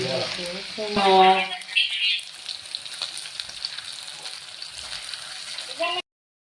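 Andhra style fish frying in hot oil, a steady close sizzle and crackle running throughout, with a voice talking briefly over it at the start.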